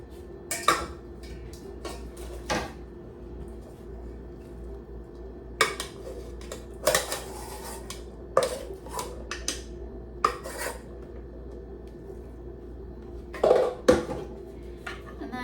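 A spoon mixes cooked quinoa and rice in a pot, giving irregular clinks and scrapes against the metal in short bursts separated by quiet gaps. Nobody speaks.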